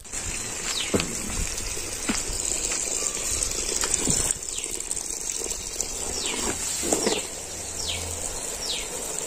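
Irrigation water released from a village farm plantation rushes in a steady, full gush, while a bird repeats short descending calls over the flow.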